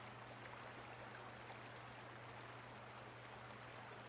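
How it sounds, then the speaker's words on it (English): A turquoise mountain river flows in a steady, faint rushing wash, a continuous even hiss of moving water with a low constant hum beneath, heard alone without talk. "Calming sound of turquoise mountain river. Nature sounds. Flowing water."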